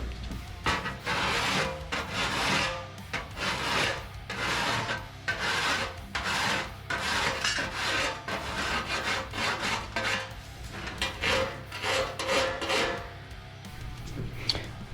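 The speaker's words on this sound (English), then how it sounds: "So you get the file out and start filing." A metal hand file rasps against a metal part being shaped for weld fit-up, loud and close, in steady back-and-forth strokes with short pauses between passes.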